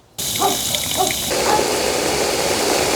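Soapy dish-soap water sprayed onto a 2019 Honda Civic Type R from a bucket sprayer before a body side moulding install; a steady, close hissing spray that starts abruptly and continues without pause.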